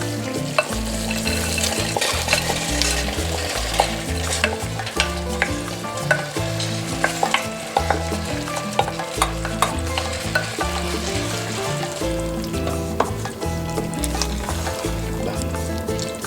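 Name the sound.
stirring Peruvian squash stew after adding shelled corn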